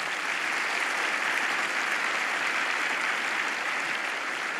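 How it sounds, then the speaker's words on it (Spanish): A church congregation applauding, dense sustained clapping from many hands filling the room evenly for several seconds with no voices over it. "Dale un aplauso a Jesús."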